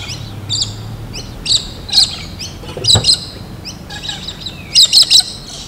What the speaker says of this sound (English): as we left there were these beautiful galahs feeding on the grass seeds in the park